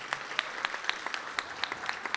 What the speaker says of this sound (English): I want you to please also give a round of applause to Ms. Christine Wright, Ms. Gloria, Ms. Tar